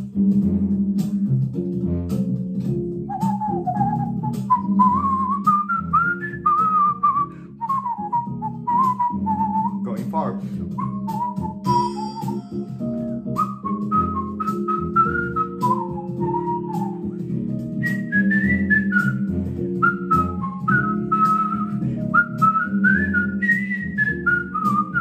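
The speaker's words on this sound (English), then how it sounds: "Now, distance from the phone or the camera also determines how loud your whistling is" A person whistles a melody very close to a smartphone microphone, with clear, loud, bright sustained notes and slides over a steady low musical accompaniment throughout.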